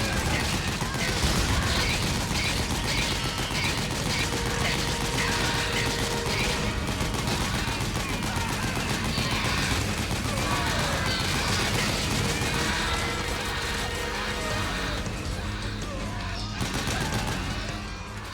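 Sustained heavy gunfire from shooting in Metal Gear Solid 4, loud and dense over a busy game soundscape for the whole stretch, with a voice speaking now and then.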